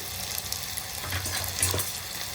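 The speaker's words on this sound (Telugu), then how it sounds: "ఆయిల్ కాగింది ఉల్లిపాయలు పచ్చిమిర్చి వేసుకున్నాను అలాగే కొంచెం కరివేపాకు కూడా వేసుకుంటున్నానండి" Onions, green chillies and curry leaves fry in hot oil with a steady, fairly quiet sizzle and crackle throughout, with no voices.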